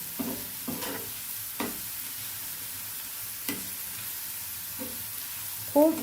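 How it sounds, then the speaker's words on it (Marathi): Onion, green chili and garlic sautéing in oil, a soft steady sizzle under a few scattered stirring scrapes and clinks in a quiet kitchen. "कांदा आणि हिरवी मिरची आपली छान परतली"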